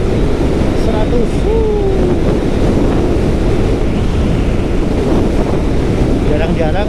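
Strong wind roaring past while riding a motorcycle at about 100 km/h on a highway, a constant loud rushing that fills the whole stretch, with faint engine tones underneath.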